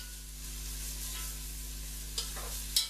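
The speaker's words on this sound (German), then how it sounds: "Schön anbraten lassen." Onions and celery fry in a pot, giving a steady soft sizzle under a low hum, with a couple of brief stirring scrapes near the end.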